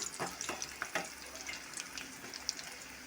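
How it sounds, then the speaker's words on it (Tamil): Squid 65 (kanava) pieces deep-frying in oil over medium heat, with a soft, continuous bubbling sizzle and small crackles and pops throughout, fairly quiet and with no voices. "இது நல்லா பொரிஞ்சு வரட்டும்"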